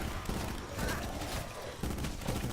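Burst-fire gunshots in the video game Black Ops 4 Zombies, rapid clustered volleys repeating through the moment amid busy game noise, loud and close.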